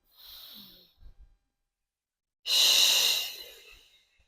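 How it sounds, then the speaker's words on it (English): A deep breathing exercise during a gentle postpartum recovery workout: a soft inhale, then after a pause a loud, long, breathy exhale pushed out through the mouth, close and alone. "Exhale through the mouth."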